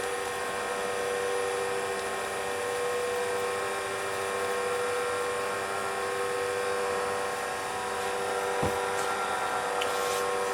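A wood lathe spins a pen blank at about 1300 RPM during sanding, a steady whining hum with tonal overtones and a faint scratchy texture, plus one brief click near the end.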